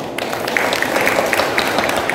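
An audience at a hospital ceremony honouring organ donors applauds, a dense, steady wash of many hands clapping loudly throughout, with no voices over it.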